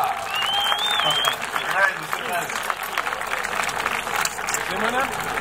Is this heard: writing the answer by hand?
no